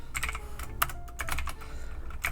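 Quick bursts of keystrokes on a computer keyboard while entering PowerShell code in VS Code, close and crisp, in uneven clusters with brief pauses between.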